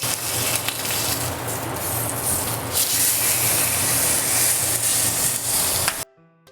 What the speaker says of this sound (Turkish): Evet, etimizi mühürledik.